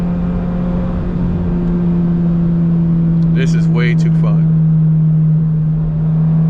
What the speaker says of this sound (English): you get a little drone just due to the MBRP exhaust